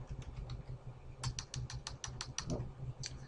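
Computer keyboard keys pressed at a server workstation, a run of crisp close clicks in an irregular rhythm over faint room hum, with no voices.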